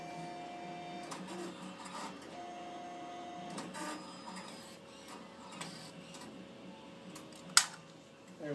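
A photo strip printer printing a shareable photo strip, whirring and clicking mechanically as paper feeds through, with brief soft knocks and one sharp click near the end.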